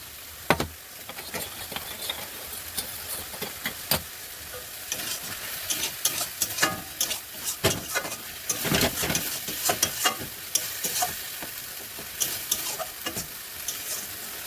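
Spice masala with yogurt frying in oil, a dense crackling sizzle broken by frequent sharp scrapes and taps of a spoon stirring, close and fairly loud, with no voices.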